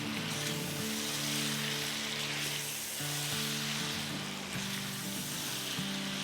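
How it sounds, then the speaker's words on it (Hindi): Chicken and yogurt frying in a karahi, a steady hiss of sizzling that holds evenly throughout with no one talking. "सबसे पहले हम दही डाल देते हैं, दही के साथ भून लेंगे।"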